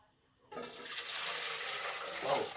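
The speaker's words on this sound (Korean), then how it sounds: "국물만 남겨 놓았습니다. 그럼 국물 이제 다시 부어 넣고" Pork rib broth is poured back into a cooking pot in a steady, close, splashing stream that starts abruptly and continues to the end.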